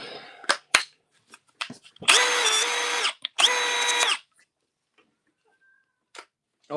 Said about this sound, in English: Half-inch hammer drill driver.